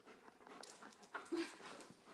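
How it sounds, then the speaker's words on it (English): Large protective dogs pant and whimper excitedly up close, quick breathy rhythmic huffs with a few higher whines. "They're really good dogs, and they're very protective of these two. And they get excited when people visit."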